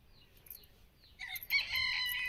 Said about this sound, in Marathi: ते एवढ्या ओरडत राहतात